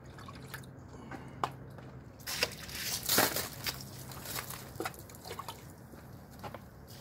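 Water is thrown onto a cement window frame before plastering, giving close splashes and drips, with one louder splatter in the middle and scattered trickling drops around it.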